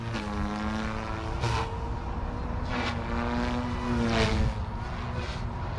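An OMP Hobby M4 RC helicopter rotor spools up to high head speed, a steady loud whine with layered harmonic tones that swell and waver in pitch, with brief bursts of rushing air.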